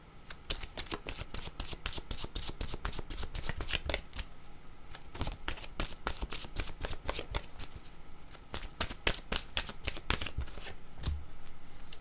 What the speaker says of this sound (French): Je vais demander maintenant une carte de mon oracle de l'âme intuitive.